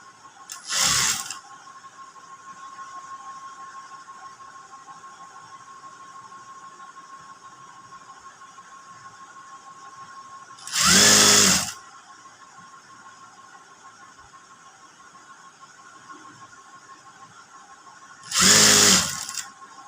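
Sewing machine stitching a frock hem in a boutique: three short, loud whirring bursts of rapid needle action, close up, separated by steady background hum with no talking.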